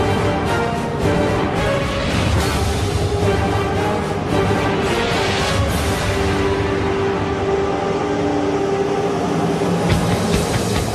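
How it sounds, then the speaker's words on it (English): An underground work train runs through a deep tunnel beneath New York, under the East River, with a loud, continuous rumbling roar and rattle that echoes. It is steady and close throughout, with faint squeals along the way. "the Man Trip train, a subterranean work train that works throughout the day"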